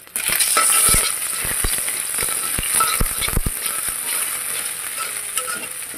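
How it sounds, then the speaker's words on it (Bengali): An egg fries in a little oil in a wok, a steady bright sizzle punctuated by sharp clicks and scrapes of a utensil against the pan, loudest near the start. "ডিমটা একটু হালকাভাবে আমি ভেজে নেব, তারপর নুডলসটা দিব।"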